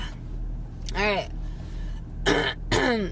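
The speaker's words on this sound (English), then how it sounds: "I'm coughing a little bit." A throat clearing followed by two short coughs, close and fairly loud, separated by brief pauses over a low background hum.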